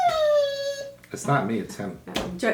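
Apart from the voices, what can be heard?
dog howling and whimpering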